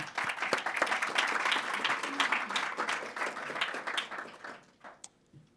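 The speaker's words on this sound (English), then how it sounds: "So give them a big applause." Conference audience in Lienz, Austria, breaks into applause, a dense steady wash of many hands clapping for about four and a half seconds before tapering off to a few scattered claps and near silence.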